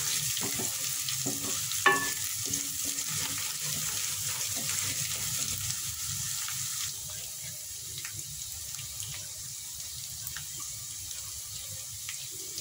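Garlic browning in oil gives a low, even, steady frying hiss with a faint bright sizzle overlay and a single small clink early on, quiet and continuous throughout.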